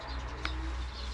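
Racing pigeons in a loft coo softly in a brief call, heard over steady background noise.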